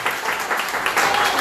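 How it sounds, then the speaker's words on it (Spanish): A congregation claps for the Lord during a church service, a short burst of brisk, even applause that holds at a steady level throughout. "Den un aplauso al Señor, por favor."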